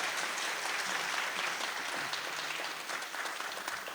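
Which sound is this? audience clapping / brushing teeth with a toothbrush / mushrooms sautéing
audience clapping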